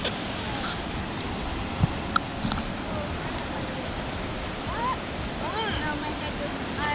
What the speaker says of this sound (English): Can't really see it, but there's a waterfall.